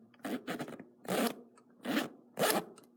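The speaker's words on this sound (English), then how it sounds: "I think this zipper is metal." A metal zipper with a metal pull on a budget Red Rock assault backpack is zipped in four separate quick runs, each a close, crisp rasping burst with short pauses between.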